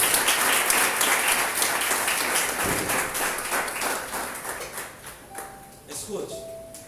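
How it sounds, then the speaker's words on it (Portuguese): A church congregation applauding together, a dense wash of clapping that gradually thins out, with a voice speaking over it and a couple of faint electronic tones near the end. "Você pode aplaudir o Senhor?"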